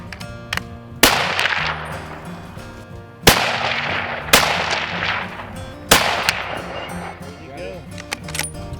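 Hunting rifles fired outdoors at camp while being checked for sighting in: several loud, sharp shots spaced a second or two apart, each ringing out with a long echo, among quiet talk.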